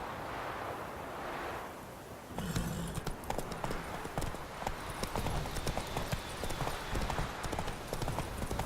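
Hooves of Roach, a horse in The Witcher 3, clip-clop in a steady trot, close and clear, under a busy game soundscape. A soft wind-like wash comes first, then the trotting starts and runs to the end.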